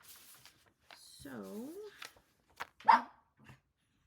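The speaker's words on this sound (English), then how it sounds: "My dog is barking." A pet dog barks several times in a domestic room, sharp close barks with a quavering, whining vocal note in between, amid quiet household sounds.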